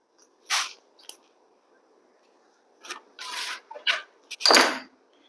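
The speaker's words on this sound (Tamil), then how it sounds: "ஒரு கோடு போட்டுருங்க." A marker or chalk being drawn across blouse fabric to mark a cutting line, a few short scratchy strokes close up with quiet pauses between them, no talk.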